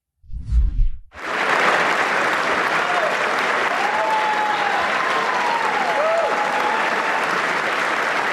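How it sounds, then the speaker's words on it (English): Thunderous standing ovation for Netanyahu in the U.S. Congress, sustained dense clapping from a large crowd that swells in after a brief muffled voice and continues steadily at full volume. "he was given a huge standing ovation by the Republicans"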